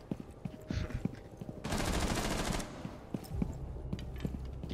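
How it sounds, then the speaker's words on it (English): Gunfire exchange in Rainbow Six Siege, a tactical shooter, with a sustained automatic burst of about a second amid scattered single shots and thuds, moderately loud, no talking heard. "I just see us shooting and them shooting."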